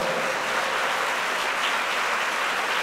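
Loud, sustained applause from a large crowd at a kirtan celebration gathering, dense steady clapping filling the whole stretch with no voices on top.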